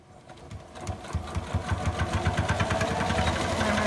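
A sewing machine runs a straight stitch on pillow fabric, its needle chattering in a fast, steady mechanical rhythm that starts up and keeps going, close and clear with no talking.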